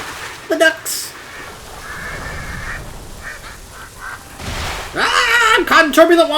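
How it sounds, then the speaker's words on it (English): Ducks quack in World of Warcraft: Dragonflight, with a few short calls near the start and a louder burst of honking quacks near the end, heard over game ambience and talk. "The ducks!"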